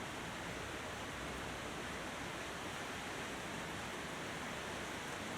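Hot water pours steadily into a camping coffee maker on a motorcycle camping trip, a continuous even hiss of liquid heard close and alone.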